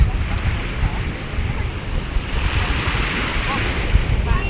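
Ocean waves break on a beach in a loud, continuous rushing roar, with gusty wind buffeting the microphone throughout and no clear speech.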